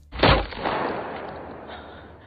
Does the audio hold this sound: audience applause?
no